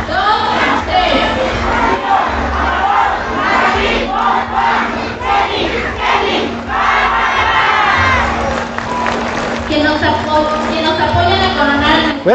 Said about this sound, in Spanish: estas porras, un fuerte aplauso